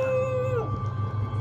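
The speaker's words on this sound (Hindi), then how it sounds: "कुत्ते हमें डरा रहे हैं।" Dogs howl in a large open field at night, one long rising-and-falling wail up front with a lower hum of other dogs beneath.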